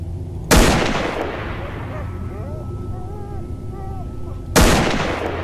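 Two sharp, loud gunshots from the video game S.T.A.L.K.E.R. Fallen Star ring out about four seconds apart, each with a decaying tail, while electronic game effects chirp faintly in between.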